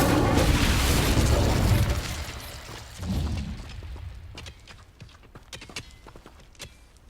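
Incendio fire spell cast in Hogwarts Legacy on PS5, a loud burst of rushing, crackling flame in the first two seconds with a second thump, then fading into quieter sparse clicks and pops.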